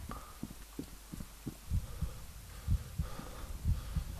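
Heartbeat pulse in the video game F.E.A.R. 2 thumps in a steady rhythm of low, soft double beats over a faint hum, with no voices.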